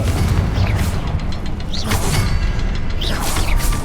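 Confringo fire blast spell cast in the video game Hogwarts Legacy, heard as bursts of whooshing, crackling blasts over a steady low rumble of game ambience and music.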